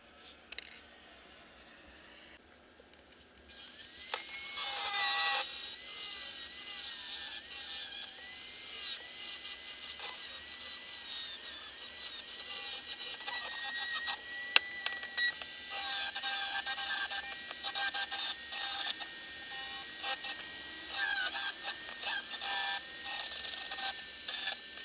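A notch being filed into a metal bracket on a Babyliss Pro FX clone hair trimmer, with a near-continuous, bright, harsh rasping that starts abruptly after a few quiet seconds and carries on for twenty seconds with brief breaks.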